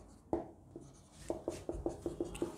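Chalk on a classroom board writing out an English sentence: a string of short, crisp taps and scratches, one stroke early on and then a quick regular run of about eight strokes, close and clear with no talk.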